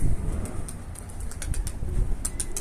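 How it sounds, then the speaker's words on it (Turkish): Flapping wings of a Mardin pigeon flying outdoors, heard as a series of soft, airy fluttering bursts spread across a few seconds, moderately distant, with no voices present. "harbiden kanat sesi güzel yani"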